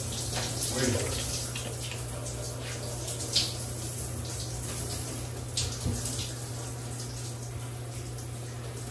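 A running water tap splashes steadily in the background, a faint continuous hiss under occasional talk, with a low steady hum beneath it.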